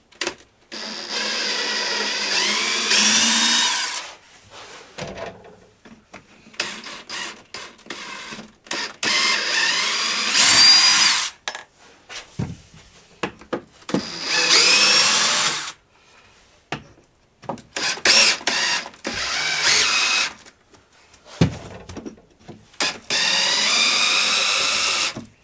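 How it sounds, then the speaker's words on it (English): A power drill backs special deck screws out of a beadboard ceiling in several separate bursts of whirring, each a few seconds long, with quiet pauses between them. "we get to see how difficult it is to remove these special deck screws that we used"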